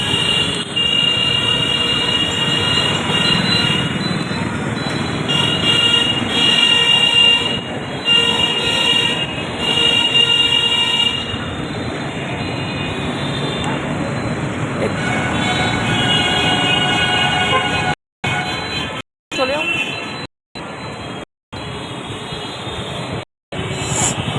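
Train running through Dakshineswar railway station: loud, continuous rumble and rattle of wagons with squealing wheels, heard close for a long stretch, with brief dropouts near the end.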